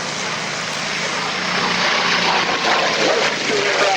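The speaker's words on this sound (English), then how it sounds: "The Grumman HU-16." A Grumman HU-16 amphibious aircraft flies past at the 2003 Biggin Hill air show, its propeller engines a loud, steady drone that swells slightly as it nears.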